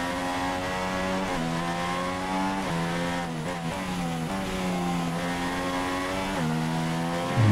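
Formula One car engine screaming at high revs around Spa in the F1 2016 racing game, pitch climbing through gears with repeated quick upshift drops, steady and loud throughout with no voices.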